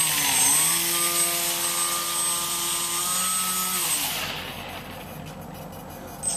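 An indoor test run of a prototype fan boat's thrust fan gives a steady whirring drone whose pitch rises and then holds before the fan winds down near the end.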